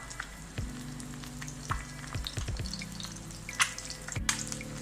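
Eggs frying in a pan for Tamil-style egg noodles: a quiet continuous sizzle broken by several sharp knocks and scrapes of a spatula against the pan, close by, no talk.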